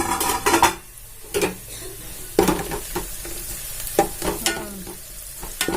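Chilies fry in groundnut oil in a pan for chicken salna, with a steady sizzle and repeated scraping stirs of a spoon against the pan, close and fairly loud.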